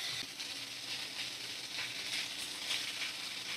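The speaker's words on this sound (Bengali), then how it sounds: "এবার ভালো করে সব সবজিগুলো এবার ভেজে নেব।" Ridge gourd and potato pieces sizzle as they fry in oil in a pan, a steady, moderately quiet hiss throughout with no talking.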